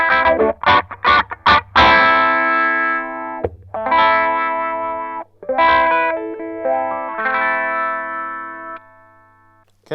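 Electric guitar played through a Cry Baby Mini Wah pedal on its low resistance setting, using the bridge humbucker of a Stratocaster: a few quick strummed stabs, then ringing distorted chords with sweeping wah tone, loud and alone.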